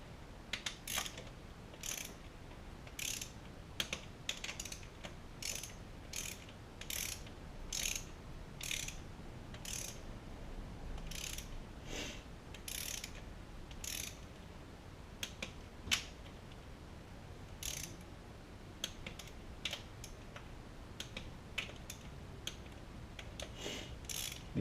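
A torque wrench ratchets cylinder head cam cap bolts on a Mitsubishi Evo engine still in the car, making quick bursts of close, crisp clicks that repeat steadily with short pauses.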